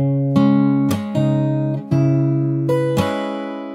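Fingerstyle acoustic guitar plays a song very slowly, a handful of clear, separate plucked chords and notes ringing out and decaying, close and alone without talking.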